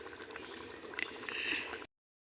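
Khichuri of Gobindobhog rice and winter vegetables bubbling and being stirred in a pot, a soft, wet gurgling and squishing that builds slightly before cutting off abruptly into silence, close and quiet.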